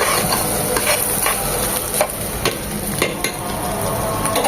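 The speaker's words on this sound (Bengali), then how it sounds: "ততক্ষণ পর্যন্ত চালটাকে নেড়ে ছেড়ে ভেজে নেব এরকম মচমচে শব্দ হবে" Rice being stir-fried in a pan for white shahi pilau, giving a continuous crisp crackling sizzle with regular scraping stirs, close and fairly loud, no talking.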